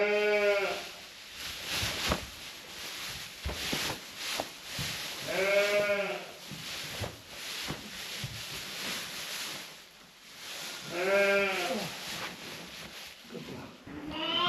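Sheep and lambs bleat during lambing season on a pedigree sheep farm, with three loud, wavering calls spaced several seconds apart over a steady hum of farm shed noise and small movements.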